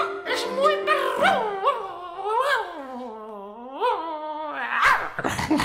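Yipping, whimpering dog-like cries swoop up and down in pitch through a Spanish-language children's song, loud and close, with repeated rising and falling calls over about six seconds.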